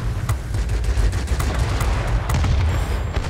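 Rapid aircraft cannon fire from a plane in the combat flight game World of Warplanes, a dense, continuous burst of loud booming shots with a steady engine roar underneath, no talk.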